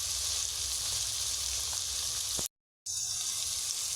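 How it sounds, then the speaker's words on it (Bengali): Ground spices being fried in a pan with a little water for a Bengali eggplant curry, giving a steady close sizzle that cuts out briefly, then resumes. "সামান্য পরিমাণে জল দিয়ে মশলাটাকে কষাবো"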